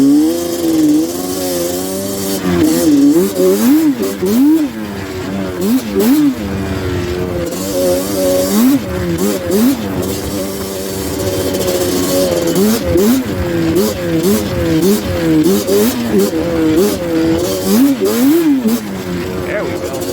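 A Yamaha Banshee ATV rides through snow, its two-stroke engine revving up and down in repeated loud surges, close and aggressive, with wind and riding noise throughout.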